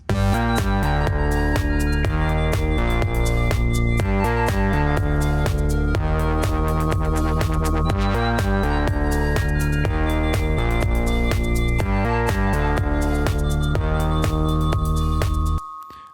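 A loud, dense electronic dance track plays with a heavy bassline, steady kick and layered synths, then cuts off abruptly at the end.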